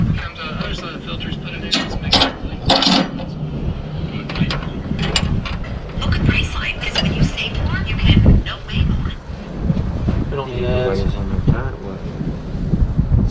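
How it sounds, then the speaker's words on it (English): Outdoors beside an old well, gusty wind buffets the microphone in rough rumbling bursts, mixed with mechanical clicking and people talking throughout. "Oh, it's windy."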